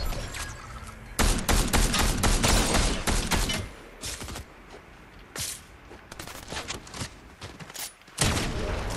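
Sustained bursts of rapid gunfire in a video game, loud and dense volleys in several waves with quieter gaps between them, and no talking.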